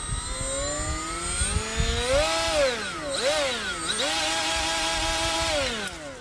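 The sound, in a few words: Milwaukee M12 right angle die grinder running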